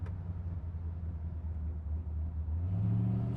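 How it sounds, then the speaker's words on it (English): A 1968 Chevrolet Camaro engine hums steadily at low pitch, then climbs in revs toward the end, swelling louder as it accelerates through the gears. "I'm going to take it up here and run it through the gears a little bit"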